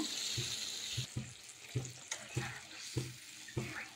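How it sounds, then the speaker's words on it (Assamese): Hot water hisses as it is poured into a pot, followed by a rhythmic series of spoon clinks against the metal. "এতিয়া ইয়াত দি দিম গৰম পানী।"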